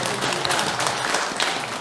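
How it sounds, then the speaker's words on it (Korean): A church congregation applauds during an afternoon worship service, a brief burst of clapping from many hands in a room. "박수 한번 드리겠습니다"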